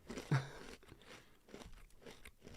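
A single sharp, close crunch of a shiny cookie being bitten, followed by quieter chewing and mouth noises.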